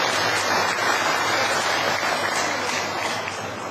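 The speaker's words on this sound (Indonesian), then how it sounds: "Ya, tepuk tangan dulu." A seminar audience in a hall claps together, producing a dense, steady wash of applause that holds for several seconds and eases slightly at the end, with no talking.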